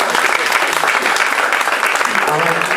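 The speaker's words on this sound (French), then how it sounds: "Est-ce qu'on peut l'acclamer?" Church congregation applauding a newly baptized woman at a summer baptism service, sustained dense clapping from a crowd filling the room, steady and loud with voices mixed in.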